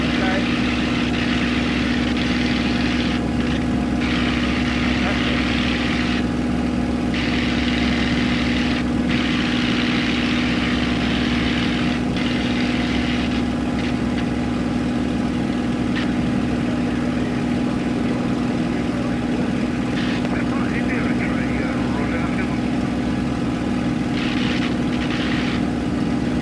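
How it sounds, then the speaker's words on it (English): A Supermarine Spitfire's piston engine drones steadily in flight, a loud continuous propeller-driven hum heard from inside the cockpit for the whole stretch, with faint intermittent noise over it. "Airborne in a Spitfire."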